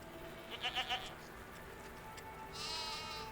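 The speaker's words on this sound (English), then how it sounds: "she felt off petting the black ram, but the white sheep felt good" Sheep bleat close by in a farm setting, a short quavering call of a few pulses, with steady background noise and a burst of hiss near the end.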